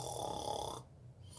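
A child's snore, a short drawn breath held steadily for most of a second before trailing off into quiet, soft and close with no talking.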